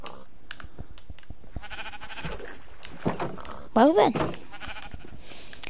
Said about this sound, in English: Oh, it's a baby sheep.